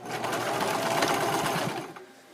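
A sewing machine stitching a blanket seam runs in a quick continuous whir for about two seconds, close and clear, then stops.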